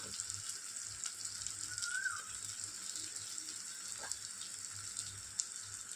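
Ground cumin, coriander and chili powder sizzle steadily in a hot pan while fish roe is being cooked, a soft continuous frying hiss with faint stirring clinks, no voices.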